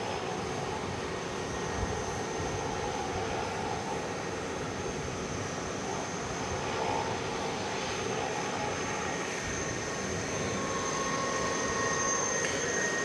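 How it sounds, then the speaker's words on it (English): A UPS Airbus A300 airliner departs at night from DFW Airport, its engines a steady, broad distant roar holding level throughout with no talk. "UPS A300 going out."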